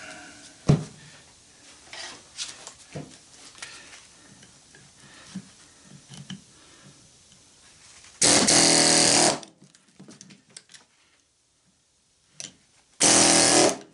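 An air chisel tears down a window AC unit fan motor on a table padded with old mud flap, two loud sustained bursts of hammering rattle between quieter clanks and handling noises.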